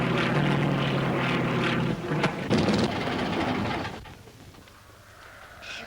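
A droning propeller airplane engine roars loudly, then is cut off abruptly around the fourth second, leaving quieter wind-like rushing behind.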